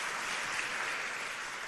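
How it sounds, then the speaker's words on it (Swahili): Applause for leaders at a church consecration event: a dense, even wash of many hands clapping, moderately distant and steady throughout without a break. "Tuwapigie makofi wa viongozi wetu."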